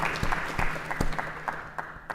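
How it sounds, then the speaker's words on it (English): An audience at a conversation on women's rights in Afghanistan claps, a thin scattering of individual hand claps with a steady hum behind it, fairly quiet and brief. "I just want to give another round of applause"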